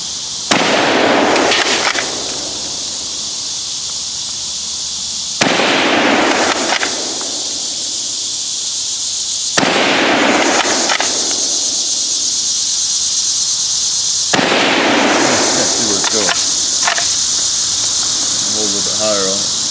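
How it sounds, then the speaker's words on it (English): Four loud rifle shots from a VZ24 Mauser fired at a propane tank outdoors, spaced about four to five seconds apart, each a sharp crack followed by a long hissing ring-out. "Let's shoot the propane tank."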